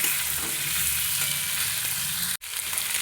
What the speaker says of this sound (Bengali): ধনে গুঁড়ো জিরে গুঁড়ো দিয়ে আলুটা খুব ভালোভাবে কষাবো